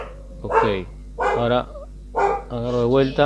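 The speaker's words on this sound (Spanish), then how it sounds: "ese es mi perro" A pet dog barks several times in short bursts indoors, close by, while someone speaks over and between the barks.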